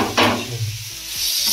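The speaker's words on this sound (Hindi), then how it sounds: "मटर फ्राई हो रहा है और पनीर फ्राई होती है।" Peas sizzle in a hot pan as a utensil stirs and scrapes them, a close frying hiss broken by brief clinks of metal against the pan.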